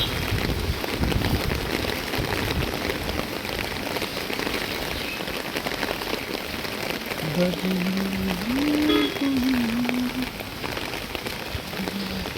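Heavy rain pours in a dense, steady hiss on an empty street in Purulia, with a voice speaking briefly underneath the downpour.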